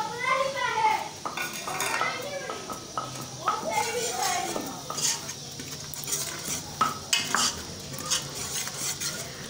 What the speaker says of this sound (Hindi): जी हम मसाले डाल रहे हैं।